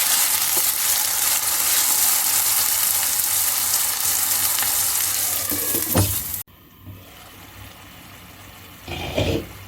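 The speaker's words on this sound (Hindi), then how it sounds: "इसमें मैरिनेट किया हुआ कीमा डाल देंगे, मिक्स करेंगे और हल्की आंच पर 20 मिनट पकाएंगे" Marinated chicken mince for achari qeema frying in a pan over onions, a loud, dense steady sizzle for about six seconds, then a cut to quieter frying with a few stirring scrapes.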